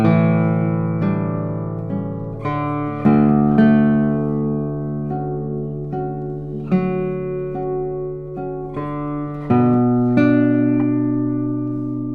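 A Domenic Roscioli guitar rings out with full, sustained low-end notes and chords, each plucked tone blooming and decaying slowly, played alone with no talking.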